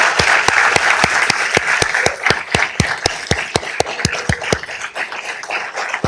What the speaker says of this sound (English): if I can also give a huge round of applause to our Downey Police Department